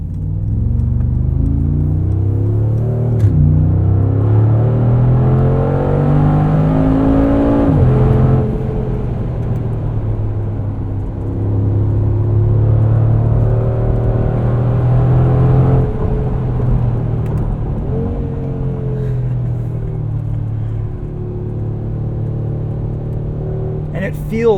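A 2020 Mercedes-AMG G63 G-Wagon with a 9-speed automatic accelerates while driving, its engine droning and rising in pitch through several gear changes, loud and steady, as someone talks over it.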